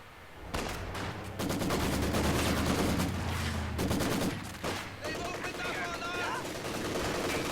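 Sustained machine gun fire in Company of Heroes 2, a dense rattling burst that runs near-continuously for several seconds amid battle noise, with a voice talking over it.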